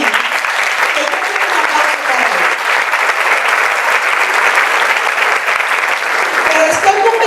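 An audience at a talk on teacher competency profiles gives a strong, sustained round of applause, dense and even clapping that continues loudly throughout with faint voices mixed in.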